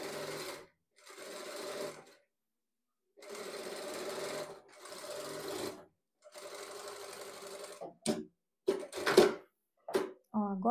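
A sewing machine stitching a ruffled blouse, running in several bursts of a second or two separated by pauses, then short quick backstitch bursts near the end, close and clear.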